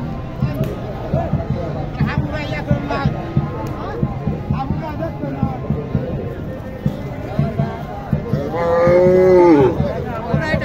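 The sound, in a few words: local bull mooing at cattle market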